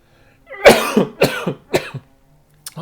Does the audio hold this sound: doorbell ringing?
no